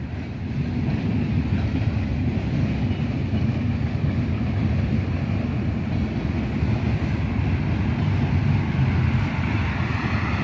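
A CSX freight train rumbles past a neighborhood, a loud, steady low roar that holds constant and unbroken with no pauses.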